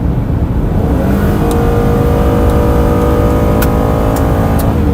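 Retired 2018 Ford Police Interceptor Explorer engine roaring loud and close, a sustained high rev held steady with a harmonic drone and some whine, with no talking.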